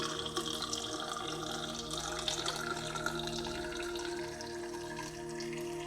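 Tap water runs steadily through a universal adapter to rinse black and white film after development, a continuous close hiss and splash that holds at an even level from start to finish.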